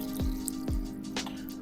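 Liquid for a homemade raspberry-infused water wine is poured, giving a couple of distinct splashy drips and a trickling flow over a steady background hum.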